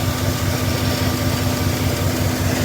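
A 5.3 V8 engine runs at a steady idle after a Rislone oil treatment, a constant close mechanical drone with faint, rapid lifter ticking barely audible under the running noise.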